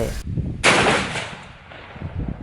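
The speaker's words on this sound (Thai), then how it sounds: "ใช้แบบเหมือนปืน M16 ก็ได้ อย่างเงี้ยยิงทีละสามนัด" Gunfire from an M16-style rifle in the game Kurtzpel, short bursts of shots, loud and close, with a burst of sharp firing midway and fainter shots after.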